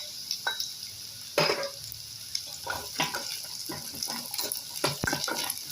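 Onions sautéing in oil in a pan for a garlic thuvayal, with a close, crackling sizzle broken by irregular scrapes and clinks as the spoon turns them; no voices.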